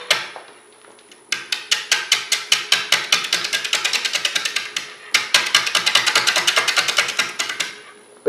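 A big bowl gouge cuts a rough tree log spinning slowly on a wood lathe, producing loud rhythmic chattering knocks as the uneven blank strikes the tool, in two long bursts separated by a short pause.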